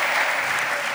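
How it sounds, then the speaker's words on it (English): An audience in Athens claps steadily in a dense, loud burst of applause. "A round of applause."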